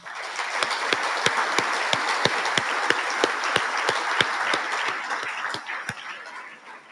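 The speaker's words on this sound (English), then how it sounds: "Let's give a big round of applause to everyone behind the scenes who made it all happen." A banquet audience at a military ammunition technician awards dinner gives sustained, vigorous applause, with a steady roar of many hands and one sharp clapper keeping a regular beat close by until the sound eases off.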